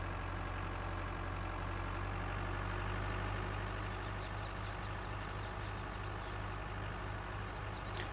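Tractor engine in Farming Simulator 19 idling steadily with a low, even hum throughout, fairly quiet and alone with no talk over it.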